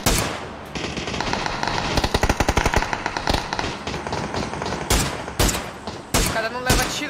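Automatic gunfire in the battle royale game PUBG, with rapid machine-gun bursts, sharp single shots and a louder close-range volley near the end, under a player's voice talking.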